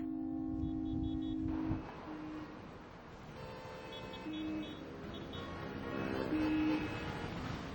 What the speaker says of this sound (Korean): 자동차 경적이었다. 여기저기서 경적이 울리기 시작한 것이다.